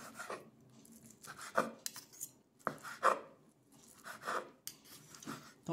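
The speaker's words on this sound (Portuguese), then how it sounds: "Vou pegar uma linguiça também para picar para vocês verem." A knife chops cooked sausage on a board in a small apartment kitchen, giving irregular close thuds and scraping cuts, quiet overall with uneven gaps between strokes.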